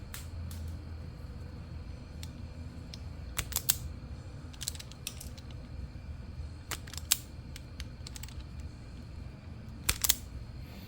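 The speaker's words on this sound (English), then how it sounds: "I also have these nice pliers that is for stripping wires" Wire-stripping pliers remove insulation from wires during a fuse box replacement on a KZ650 motorcycle, giving faint, scattered crisp snips and clicks over a quiet background.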